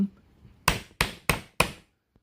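Old rusted pliers stuck shut are struck with four sharp, evenly spaced metallic taps, each close and loud with a quick decay, with no talking.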